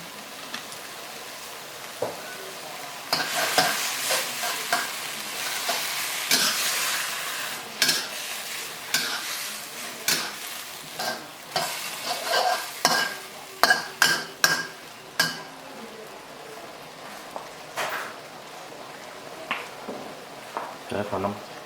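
Hmong chayote shoots are stir-fried in a pan with oyster sauce and fish sauce, giving a steady sizzle broken by scraping spatula strokes and clicks. Speech is heard now and then over the cooking.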